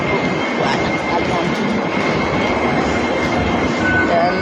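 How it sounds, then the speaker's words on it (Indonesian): Inside a moving KRL commuter train: a loud, constant rumble of wheels and carriage noise with faint voices blended in. "Ini suasananya di kereta KRL"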